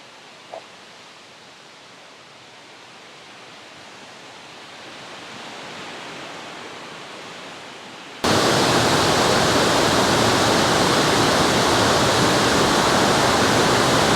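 Water spills over a small drop-off in Cedarburg, Wisconsin. A soft, distant rush builds gradually, then jumps to a loud, close, steady roar.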